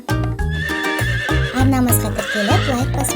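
A horse neighs loudly and close in a long shrill whinny with pulsing tones, over rhythmic clip-clop hoofbeats.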